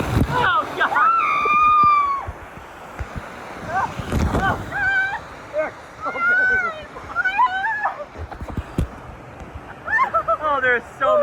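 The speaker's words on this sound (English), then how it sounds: "there are so many waterfalls in this" Waterfalls splashing around a boat ride at Disney World, with bursts of rushing, sloshing water heard under frequent excited talking and shrieks from riders.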